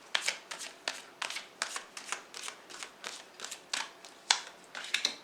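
Tarot cards are shuffled up close in a steady run of soft, papery riffles and flicks, roughly two per second, alone and fairly quiet.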